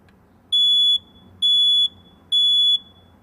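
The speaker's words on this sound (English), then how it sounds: "The smoke alarm tells you when there's smoke in your house." A smoke alarm at a fire station sounds three loud, evenly spaced high-pitched beeps, each about half a second long, close and alone over a quiet room.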